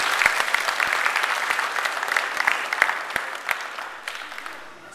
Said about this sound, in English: Again, another big round of applause for them.